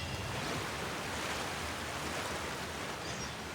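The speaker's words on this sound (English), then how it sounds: "Loud water." Loud water waves roll and rush in Genshin Impact's Fontaine region, a dense, steady wash of surf noise with no talk over it.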